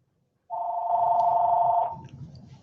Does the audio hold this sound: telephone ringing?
yes